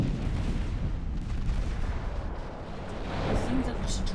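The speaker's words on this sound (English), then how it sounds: "I think that was a torpedo detonation" A torpedo detonation rumbles in a naval battle in Ultimate Admiral Dreadnoughts, a dense, sustained low boom layered with continuous gunfire-like roar and distant rumble through the whole stretch.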